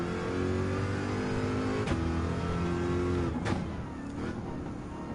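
Race car engine droning steadily while driving in Gran Turismo 7, a sustained, fairly loud hum with a couple of brief sharp clicks or bumps partway through, no talk.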